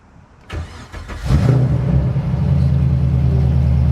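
A Corvette engine cranks and starts, settling into a steady low idle rumble close by.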